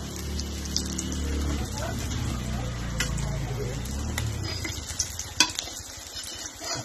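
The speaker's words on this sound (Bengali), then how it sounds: "মাছ ভাজা হয়ে গেছে, একটা একটা করে নামাবো।" Fish fry in a pan with a steady sizzle, joined by stirring and the occasional clink of a utensil against the pan, with a voice partly heard over it.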